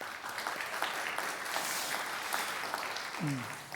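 A church congregation gives a warm round of applause during a Sunday worship service, steady moderate clapping from a room full of people, with a voice briefly heard near the end.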